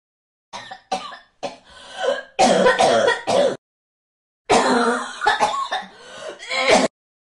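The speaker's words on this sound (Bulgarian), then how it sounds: "Кашляш като магарица!" A person coughs repeatedly, in short harsh bursts and longer hacking fits, close up, with a brief pause between two clusters.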